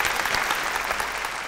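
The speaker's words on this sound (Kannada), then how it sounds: "ಜೋರಾದ ಚಪ್ಪಾಳೆ ಬರಲಿ." Studio audience on a quiz show applauding, a steady burst of many hands clapping together, loud and close.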